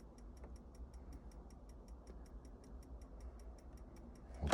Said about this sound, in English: Can you hear it ticking in the background?